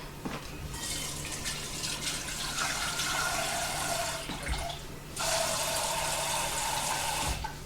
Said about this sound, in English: And I'm going to add some water to it.